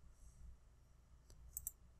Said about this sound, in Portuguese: E vou dar mais um clique